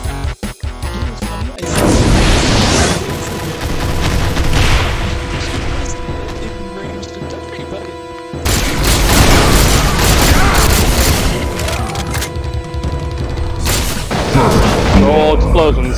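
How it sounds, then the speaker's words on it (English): Repeated booming explosions from Ultimate Doom gameplay in a co-op session, loud broadband blasts bursting in at intervals over a dense bed of game music and effects. "Oh, explosions."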